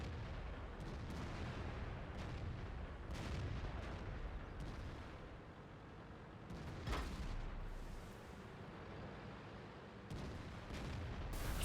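Heavy tank cannon fire and explosions in World of Tanks, deep booms and rumbling shots over a constant loud background of engine drone, with distant blasts repeating throughout.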